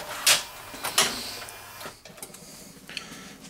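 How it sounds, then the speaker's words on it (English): RCA Selectavision CED videodisc player drawing a disc in through its front slot, mechanical clicks and a brief whirring motor pull, followed by quieter ticking, close with no talk. "Those little wheels will grab the disc, suck it in, pull the caddy back out."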